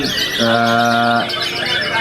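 A white-rumped shama's clear, steady whistled note rings out for about a second over a loud, noisy background.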